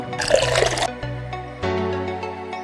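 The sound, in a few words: two glasses of water poured into sambar pot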